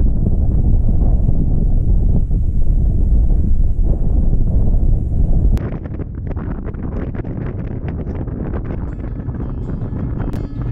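Strong wind buffets the microphone on an exposed Scottish mountain ridge near Poolewe, a loud continuous roar that eases slightly halfway through into steadier, rustling gusts.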